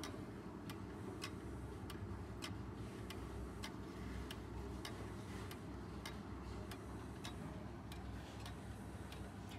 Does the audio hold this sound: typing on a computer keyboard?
no